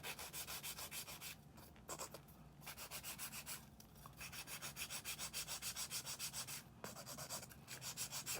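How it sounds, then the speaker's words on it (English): Fingernails being shaped with the 180 fine grit side of a nail file, a quick, close, rhythmic rasping of repeated short strokes with a few brief pauses. "I'm going to use the 180 fine grit side just to perfect the shape now."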